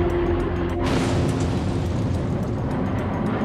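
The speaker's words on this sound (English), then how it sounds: "We have an explosion outside this building." A sudden loud car bomb blast outside a building on Russell Street, Melbourne, bursts out about a second in, followed by a lingering rumbling roar amid broadband noise.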